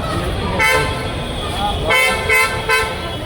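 Car horn toots blare in short repeated honks over a steady road hum, fairly close, with a voice talking faintly underneath.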